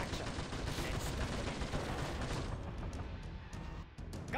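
A Gatling gun in Contra 009 fires a long, rapid, unbroken stream of shots at close range, loud and steady for several seconds, with no voices.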